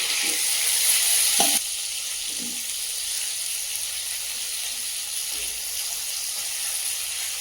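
Eggplant slices, softened after marinating in salt and turmeric, frying in a little oil over lowered gas, giving a steady soft sizzle that runs the whole time with a few faint clinks.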